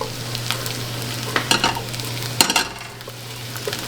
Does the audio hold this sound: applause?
no